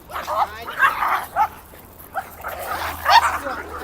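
A bunch of dogs fighting on an evening stroll, with repeated sharp barks, yips and whimpers from nearby in uneven bursts, while a person talks over the commotion.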